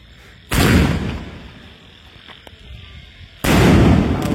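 Two sharp, loud vankaya bomb firecracker blasts for Diwali, about three seconds apart, each a sudden close boom with a rumbling tail, quiet outdoor ambience in between.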